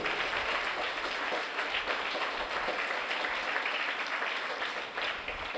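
An audience claps in thanks to an honoured father figure at a Tamil gathering, a sustained, even burst of many hands applauding with no voices over it.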